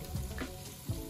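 Beef and broccoli stir-frying in a hot pan, a soft steady sizzle with a few brief scraping stirs of the spatula, close and brief with no talking.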